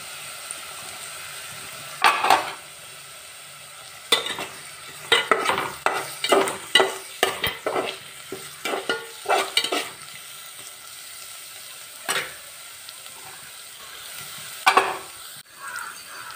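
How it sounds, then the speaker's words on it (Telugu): Freshly pounded ginger-garlic paste fries in a pan under a low sizzle, broken by repeated sharp scraping strokes of a spoon, clustered in the middle and sparse near the end, close by with no talking. "అల్లం వెల్లుల్లి పేస్ట్ దంచి ఇప్పుడే ఫ్రెష్గా దంచి వేస్తున్నాను"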